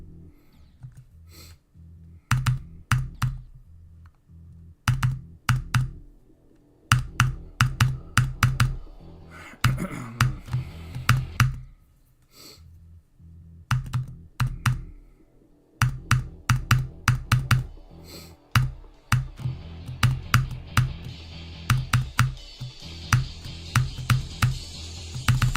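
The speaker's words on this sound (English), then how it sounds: "I play on the keyboard." Close, loud keyboard presses tap in irregular bursts, sometimes rapid clusters and sometimes single hits, during Geometry Dash play, with brief gaps and no voices.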